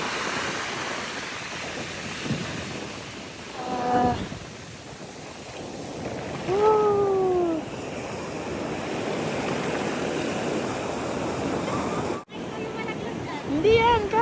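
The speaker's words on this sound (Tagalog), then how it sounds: "Masyadong maalon ngayon guys oh" Rough sea waves breaking along a shore, a continuous rushing wash that surges and recedes, with people's voices chatting over the surf at times.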